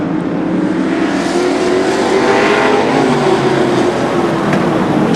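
Short track race cars roar past in a dense pack, a loud, continuous engine drone with shifting pitch as the field sweeps by close, without talk.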